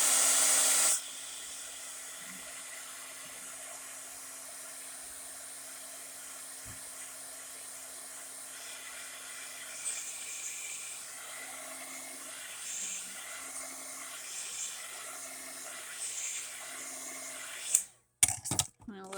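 A heat tool drying glue on junk journal paper gives a steady, even whirring drone that runs almost unbroken, then stops and is followed by a brief clatter of handling.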